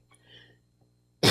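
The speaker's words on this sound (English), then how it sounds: "Excuse me, dainty cough." A single sharp cough bursts out loud and close at the end, after a stretch of faint breathy sounds.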